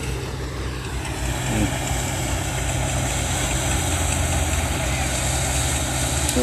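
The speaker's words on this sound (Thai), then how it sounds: "ดูครับรถเกี่ยวคูโบต้าครับ DC 70 ครับ" Kubota DC70G combine harvester cutting a sunn hemp field, its engine holding a steady, loud low rumble and mechanical drone throughout with no breaks.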